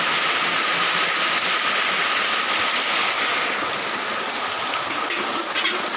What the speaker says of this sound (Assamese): বৰষুণ যাক দিলে পানীৰ এয়া পানী ইমান ধুনীয়াকৈ পৰি আছে